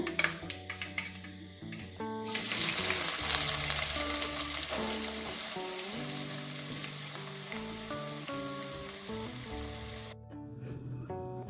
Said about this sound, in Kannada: ಕೆಂಪಾಗಿ ನೀರುಳ್ಳಿನ ಫ್ರೈ ಮಾಡ್ಕೊಳ್ಳೋಣ